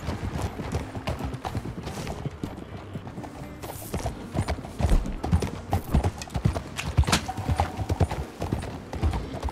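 Horse hooves clip-clop steadily in Red Dead Redemption 2, a rhythmic run of close, moderately loud hoofbeats over a dirt trail with ambient game sound and a brief whinny.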